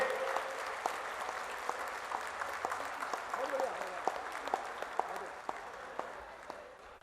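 Applause from an audience at a book launch for an illustrated Samaveda translation honouring Mohan Bhagwat: a steady, fairly quiet spread of many hands clapping throughout, with a voice running over it.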